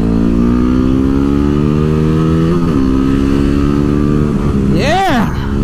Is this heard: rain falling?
no